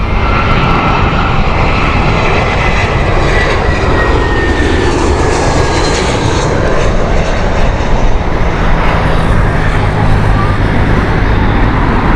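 Arriving airliners roar loudly at Heathrow Airport, queued on approach one after another, with a sustained engine drone and a rising whine that fill the whole stretch, and faint road traffic underneath.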